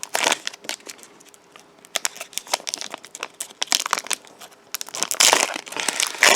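A Pokémon Sun & Moon booster pack wrapper being torn open, loud close crinkling and crackling foil with sharp tearing bursts, steady rustling through the middle and a louder flurry of crumpling at the end, no talking.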